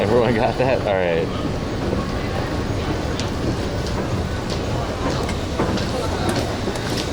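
Bangkok metro train riding along, a steady close rumble with faint rail clatter running throughout under a murmur of voices.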